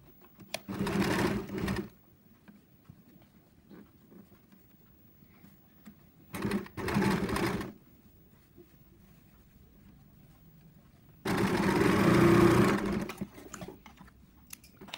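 A sewing machine stitches a wing-hand sleeve design pattern in three loud, steady whirring bursts, separated by quiet pauses.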